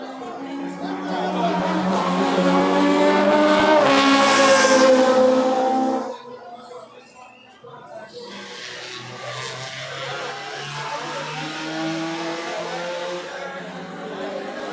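A race car speeds along the front stretch toward corner one on the final lap, its engine rising to a loud roar before dropping away, followed by more distant engine noise under a race announcer's voice.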